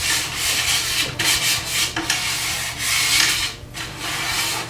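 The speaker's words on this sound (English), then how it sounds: "take this opportunity and just give your drum a good wipe" A cloth rubs and wipes dust off a bare drum shell in quick, repeated strokes, soft, close and without voices.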